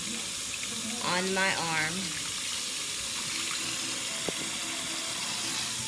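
A faucet runs in a steady, close hiss of water while a child's hair is rinsed on wash day, with a brief spoken phrase over the flow.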